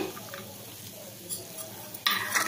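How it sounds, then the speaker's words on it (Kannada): Potato filling for aloo bonda being stirred with fresh coriander in a pan after the stove is switched off, giving soft scraping and mixing sounds that grow louder and busier toward the end, with no talk. "ಇನ್ನು ಮಿಕ್ಸ್ ಮಾಡಿ ಇಟ್ಕೊಳ್ಳೋಣ"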